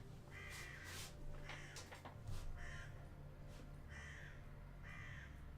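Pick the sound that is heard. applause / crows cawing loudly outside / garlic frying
crows cawing loudly outside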